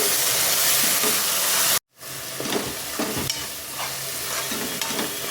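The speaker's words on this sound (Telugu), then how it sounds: "ఫ్లేమ్ అనేది మీడియం ఫ్లేమ్లోకి లో ఫ్లేమ్లోకి అడ్జస్ట్ చేసుకుంటూ ఫ్రై చేసుకోవాలి ఈ మసాలా మొత్తం బాగా వేగాలండి" Masala for country chicken curry frying in a pan over medium to low heat, a loud continuous sizzle that cuts out briefly, then resumes with repeated stirring scrapes, no speech.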